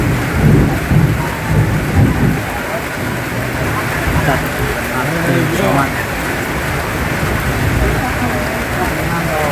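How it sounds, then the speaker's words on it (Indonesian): Heavy rain pours steadily during a thunderstorm on a journey in Central Java, with rumbling thunder building under a dense, constant downpour while someone talks over it. "karena ini hujan"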